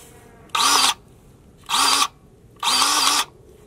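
A DeWalt 20V cordless grease gun with a Lock-N-Lube tip pumps grease in three short, loud motor whirs, each under half a second, separated by quiet pauses.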